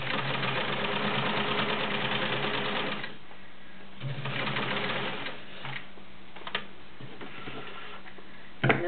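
A vintage Kenmore 1750 sewing machine stitches through a doubled denim Levi's pocket and four layers of seams, a fast rhythmic mechanical clatter running in bursts with brief pauses and slower stitching between.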